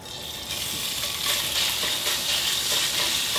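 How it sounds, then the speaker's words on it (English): Bacon and onions frying together in oil in a pan, a loud, close, continuous sizzle with crackling and occasional stirring scrapes, no talking. "I'm gonna start by cooking up, first of all, the bacon and the onions together."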